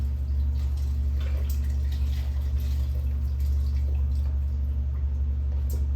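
Liquid poured steadily into a pot of lentil soup, a continuous close pour with low wet splashing and no talk, over a constant low hum.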